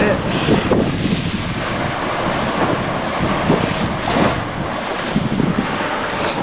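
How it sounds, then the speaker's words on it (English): A strong gale buffets the microphone in heavy, uneven gusts over a choppy sea, with rough wave wash churning underneath the whole time. "it's blowing an absolute gale"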